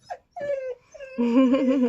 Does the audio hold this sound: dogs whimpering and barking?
yes